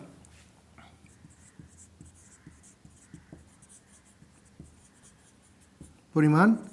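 A pen writing figures into a column of a table on paper, a run of small close scratching strokes and taps, followed by a short loud burst of another sound at the end.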